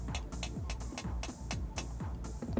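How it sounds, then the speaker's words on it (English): Repeated taps on a 6-inch optical glass dome port for an underwater camera housing ring out as a steady series of crisp, close knocks, each with a brief resonant tail, with no voices present. "And this one is an optical glass dome port and it sounds like this."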